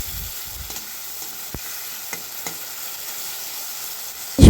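Grated tomato puree with ginger-chili paste frying in a pan, a low hiss with sparse scraping stirs and a louder knock at the very end, moderately close.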